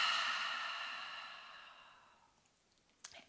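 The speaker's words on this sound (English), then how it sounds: "Take a deep, full breath in through the nose. And just open up the mouth and let that breath out." A deep breath is let out slowly through an open mouth, a long soft airy exhale that fades over about two seconds, close and calm, followed by a small click.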